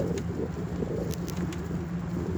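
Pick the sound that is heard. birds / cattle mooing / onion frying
birds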